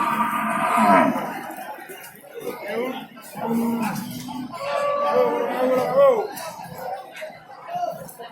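A large, long-bodied cow at a livestock market in Tuban, East Java, moos repeatedly in loud, drawn-out calls that fill the scene, with people talking around it.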